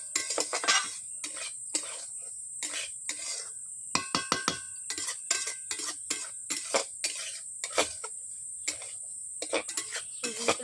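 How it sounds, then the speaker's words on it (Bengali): Semolina is stirred in a metal kadai with sharp, irregular scrapes and metallic clinks coming in quick bursts between short pauses, close up, over a steady high insect-like whine. "সুজিগুলোকে এইভাবে আমি নেড়ে নিচ্ছি"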